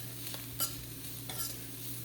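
Carrot, capsicum and cabbage being stirred in a frying pan, with a spoon scraping the pan twice over a steady low sizzle.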